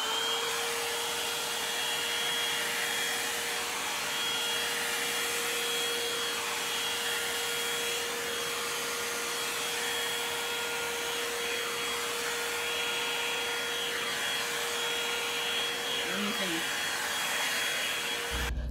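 A hair dryer blows continuously on natural type 4 hair, a loud, steady, close whooshing hum with a constant whine that runs unbroken throughout.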